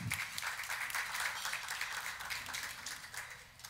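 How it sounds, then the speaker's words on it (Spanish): Audience applause at an international conference, a continuous patter of many hands heard from a distance at low level, fading slightly toward the end with no voices over it. "Un fuerte aplauso para él."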